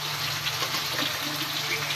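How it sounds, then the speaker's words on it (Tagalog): Water pours into a pan of frying onions for sarciado tilapia, a steady, close gushing splash that runs unbroken, lightly masking the sizzle beneath. "Lagyan natin ng tubig."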